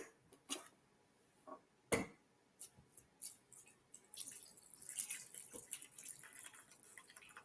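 Water from a cup is poured into an electronic jewelry cleaner: a few faint drips and ticks first, then a steady splashing trickle that fills the tank, heard quietly and close with no talking.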